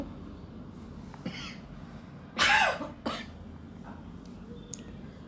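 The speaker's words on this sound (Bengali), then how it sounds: "গলার ভিতরে একটু খুসখুস করে সে কারণে একটু কাশি আসতেছে" Two or three dry coughs from someone with a cold and a scratchy throat, close and fairly loud against a quiet room, with a small throat sound at the end.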